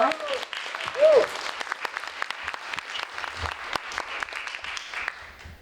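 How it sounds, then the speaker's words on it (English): Applause breaks out for a women's health investment panel, a moderate round of clapping that swells briefly and then thins out and fades, with a voice heard near the start. "So, round of applause for the group."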